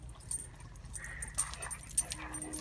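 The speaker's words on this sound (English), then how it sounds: "Okay, Matt, those are my dogs." A dog whimpers softly in short, thin whines over low background rumble, fairly quiet and close, with a few faint yips.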